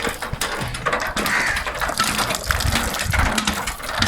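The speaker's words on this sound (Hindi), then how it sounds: "अब बोतल भर ले।" Water gushes steadily into a bottle outdoors in a village field, a continuous splashing pour with gurgling bursts, close and fairly loud throughout with no talk over it.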